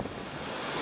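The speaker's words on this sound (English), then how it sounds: "That's how hard the salt water is blowing up here on our balcony." Storm wind roars across a Carnival Pride cruise ship balcony at sea, driving salt spray in a loud, constant rush of wind and surf noise with heavy buffeting on the microphone.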